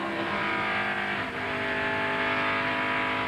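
1996 NASCAR stock cars roar past near the wall at the GM Goodwrench Service Dealer 400, a dense, sustained engine drone with layered harmonic whine and a brief dip as the pack sweeps by.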